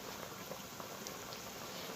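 Water with chunks of meat comes to a boil in a pot for a bitter gourd and meat curry, giving a faint, steady, close bubbling with no talking.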